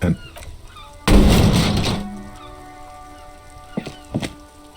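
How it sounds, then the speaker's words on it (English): A dented yellow mailbox is kicked in Disco Elysium, landing as one loud hollow thunk that rings out briefly, followed a few seconds later by two fainter knocks. "there is a hollow ring as you kick the box"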